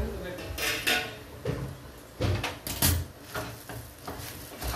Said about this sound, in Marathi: तर आता उघडून बघू.